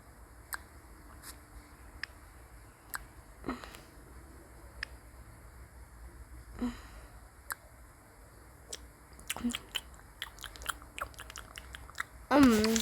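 Crunchy food being chewed close to the mic in repeated crisp bites, with scattered clicks and a short burst of talk at the end.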